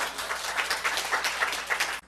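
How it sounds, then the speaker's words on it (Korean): A church congregation applauds during a Sunday service, a dense spread of clapping from many hands that fills the room for a couple of seconds before cutting off. "우리 하나님께 박수 올려드립니다"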